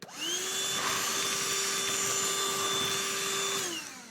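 A Black+Decker beyond cordless dustbuster hand vacuum runs steadily at close range with a high, even whine for about four seconds, then winds down.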